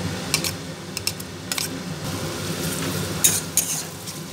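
Chopped garlic and ginger frying with lightly browned onion in a pan, a steady soft sizzle broken by sharp scraping clicks of stirring, close and alone.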